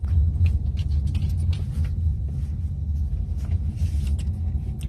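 Inside a car pulling up to a fast-food drive-through, a low, steady engine and road rumble continues throughout, with faint rustling on top.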